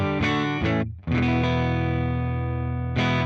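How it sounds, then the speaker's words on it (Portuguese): An electric guitar runs through a Valeton GP-5 Fender-style amp model with slight overdrive, playing a few picked notes and then a long sustained chord that rings out before another strum. "Vamos aumentar esse ganho para ele comprimir um pouquinho, porque eu gosto do amplificador com som de amplificador alto."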